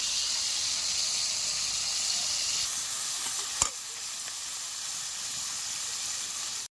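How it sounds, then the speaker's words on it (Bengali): Fish fries in a pan with a constant soft hiss and sizzle, steady and fairly faint, broken by a single sharp clink midway before the sound cuts off abruptly. "মাছটা ভাজা হয়ে গেছে, এবার তুলে নেব।"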